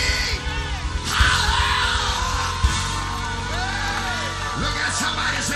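A church congregation shouts and hollers together, a dense mass of overlapping yelling and whooping voices that swells in loud bursts.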